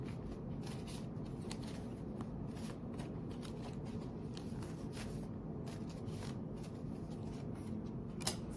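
Tarot cards being shuffled by hand for a reading, a soft continuous riffling and sliding with light repeated flicks, close and quiet with no talking.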